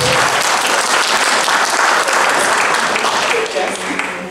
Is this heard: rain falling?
no